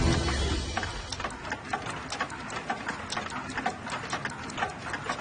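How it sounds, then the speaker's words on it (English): Clock room holding about 200 clocks, a dense, overlapping patter of many ticks at different rates, close and fairly loud, with a brief low hum at the start. "I have about 200 clocks."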